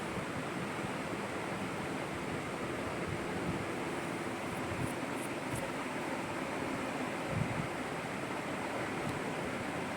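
Urad dal medu vadas deep-frying in hot oil for thayir vadai, a steady dense crackling sizzle that fills the whole stretch without pause, close and even, with no talking.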